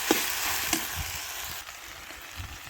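Okra pieces for a sabzi fry in a pan with a steady, close sizzle and scattered crackles throughout.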